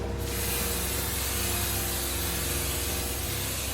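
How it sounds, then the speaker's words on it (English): Cooking oil hisses from a spray can onto a baking sheet in one continuous, close, loud burst that holds steady for several seconds after a quick start, with no talking. "We sprayed our oil just so that the cookies don't stick to the baking sheet"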